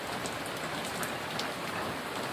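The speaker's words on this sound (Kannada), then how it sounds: "ಮಳಿನೇ ಸ್ಟಾರ್ಟ್ ಆಯ್ತು ನೋಡ್ರಿ" Heavy rain falls steadily, a dense, even patter close by with no pauses.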